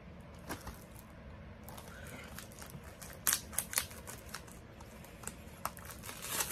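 Plastic wrap is peeled and torn off a Blu-ray case at close range, producing quiet irregular crinkles, crackles and sharp snaps, with a louder cluster of crackling midway.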